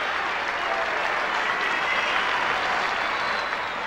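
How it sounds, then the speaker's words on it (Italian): An audience applauds warmly at a concert, a continuous even wash of many hands clapping that stays steady and moderately loud throughout. "proporrei di fare un bellissimo applauso e un caloroso benvenuto da tutti noi"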